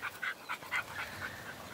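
A six-month-old American pit bull terrier puppy whimpers in a string of soft, high, rhythmic whines, quiet and close, with no talk over it.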